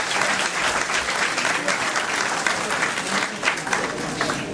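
An audience at a naat recital competition in Holland bursts into dense, sustained applause for an announced guest, many hands clapping steadily and loudly, with some voices mixed into the crowd noise.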